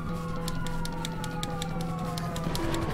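A police car siren in GTA V Online wails steadily through the clip, mixed with a sharp rhythmic clicking and engine hum.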